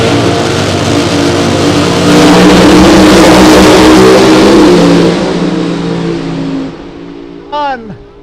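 A Funny Car drag racing car roars hard under full acceleration, a loud, close engine blast that builds and then fades as it pulls away, with an announcer talking and a brief whistling sweep near the end.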